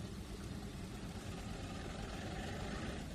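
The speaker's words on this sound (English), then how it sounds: "I hear the engines, but I'm not seeing the movement" Diesel locomotive engines in the Trainz 2019 simulator, on the C&O Hinton route, make a steady low rumbling drone that holds without a break and sounds fairly close.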